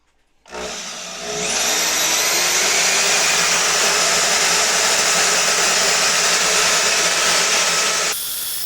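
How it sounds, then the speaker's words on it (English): A Milwaukee deep cut bandsaw cuts into a steel billet, a loud, steady broadband whine that ramps up after a brief start and holds evenly for several seconds before easing off near the end. "So we get the billet started on the bandsaw. We're using a Milwaukee deep cut bandsaw."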